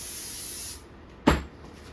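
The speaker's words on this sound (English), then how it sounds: "So once again, flip it over, give it another spray." A single short burst of cleaner from a spray can onto a clutch surface, a quick sharp hiss that fades within a fraction of a second after a steady background hiss stops.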